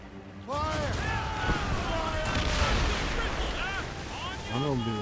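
Ship cannons booming in a naval battle in Assassin's Creed Rogue, loud heavy blasts rolling under dramatic music and shouted voices for the whole stretch.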